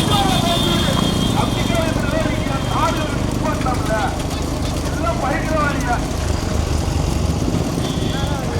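Running bulls' hooves in a bullock cart race at Seevalaperi, a dense rumbling patter mixed with loud crowd shouting and talk, steady throughout.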